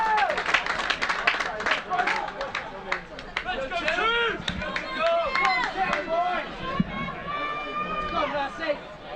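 Applause from a rugby crowd at a school Champions Trophy quarter-final as a Sedbergh player is substituted off, steady clapping beneath an ongoing commentary voice.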